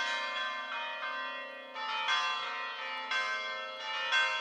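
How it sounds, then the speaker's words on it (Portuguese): Church bells ring from the towers of the Bom Jesus basilica in Portugal, several overlapping strikes with long, bright, sustained tones swelling again every second or so. They sound fairly close and clear, with no talking. "a Basílica do Bom Jesus se descortina imponente com seu conjunto de sinos que tocam"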